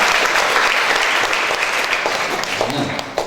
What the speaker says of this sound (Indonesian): cuma tekan tepuk tangan dulu